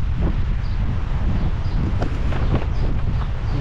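Strong wind at Weymouth Beach, New Zealand, buffeting the microphone in a loud, continuous roar with gusty rumbling throughout and no speech.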